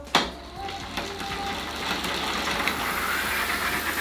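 An old electric motor from a solar-powered rickshaw, wired to a 12-volt battery, switches on with a sharp click and spins up into a continuous whirring hum that holds steady and close.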